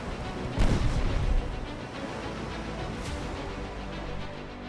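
Naval artillery fire in the warship game Ultimate Admiral Dreadnoughts: a dense, rumbling barrage with one heavier boom near the start and a sharp report later, all over a steady roar of battle noise, with no talking.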